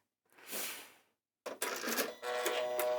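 A sewing machine powering up after being switched on: a short soft whoosh, a brief pause, then a busy mechanical whirring and clicking that keeps running, close by with no talking.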